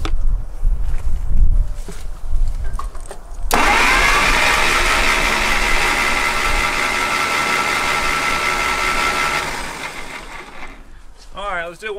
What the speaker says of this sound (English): Cranking again.